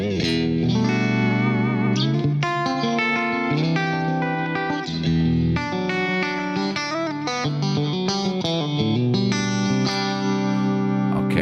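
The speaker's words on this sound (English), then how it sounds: "I wanted to select the Econodyna comp to have a very compressed sound" An electric guitar played through a Fractal Axe-FX Econodyna compressor, heavily compressed and effected, rings out in a steady, dense run of sustained chords and notes with reverb and chorus shimmer, loud and continuous throughout.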